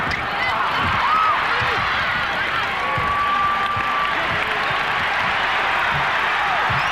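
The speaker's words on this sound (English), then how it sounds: "Crowd looking to urge the Pistons on" Crowd in a basketball arena during the 1991 Bulls–Pistons Eastern Conference Finals roars steadily to urge the Pistons on, a loud continuous wash of cheering with a whistle and faint court sounds beneath.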